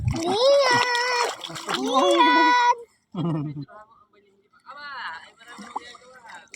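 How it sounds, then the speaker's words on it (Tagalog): A small child splashing in the shallow water of Taal Lake, with bursts of splashing mixed with lively children's voices and adult talk nearby, fading to quieter moments between. "Ang aming apo ay pinatampisaw-tampisaw muna ng kanyang lolo sa tubig"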